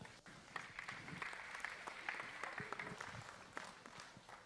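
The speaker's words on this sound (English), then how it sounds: "Give him a big round of applause." Faint, distant applause from the crowd at a county fair 4-H/FFA dairy cattle show for the champion FFA Angus bull, a thin steady patter of clapping heard from afar.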